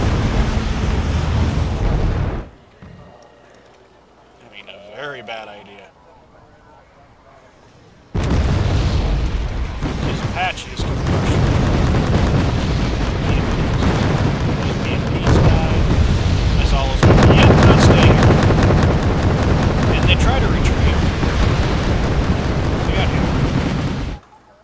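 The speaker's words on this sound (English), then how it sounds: "We know the artillery is firing." Artillery fire and shell explosions in a strategy video game, with loud booming blasts filling most of the stretch after a brief quieter lull, dense and sustained with overlapping detonations.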